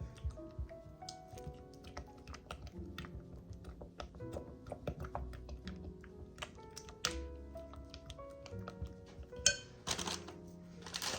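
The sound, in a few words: stirring melting chocolate chips in a pot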